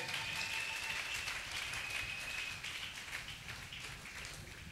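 Church congregation applauding together after a call to acclaim the word of God, a steady wash of dense clapping at close range, easing slightly in the second half.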